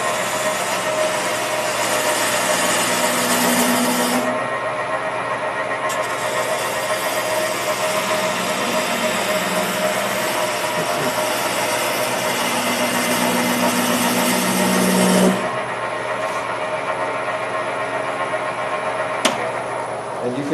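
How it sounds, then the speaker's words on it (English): Wood lathe spinning steadily as an old round nose scraper, ground very aggressively, cuts the turning, a continuous close mechanical whir with a steady hum and shifting scraping tone throughout. "So, it's a round nose scraper, again an old tool."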